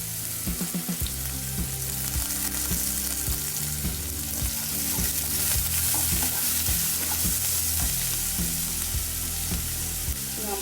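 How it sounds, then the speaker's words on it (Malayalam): Chopped onion, green chili, ginger and curry leaves sauté in hot oil for poha upma, giving a constant loud sizzle and crackle while a spoon scrapes and knocks against the pan in regular stirring strokes. "നമ്മുടെ സവാള ഒന്ന് വഴണ്ട് കിട്ടണം."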